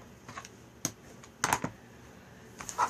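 Scissors snip through newspaper being cut for a quilt, giving a few short, crisp cuts spaced across the moment, close and fairly quiet, with no talking.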